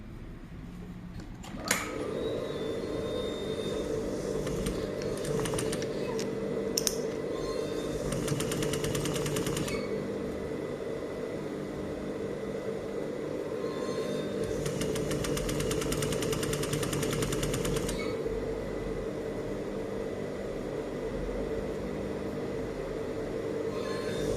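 A sewing machine runs a steady, continuous stitching line along a folded hem, about 1–2 mm from the fold, humming loudly and closely with a few brief changes in pitch and no talking.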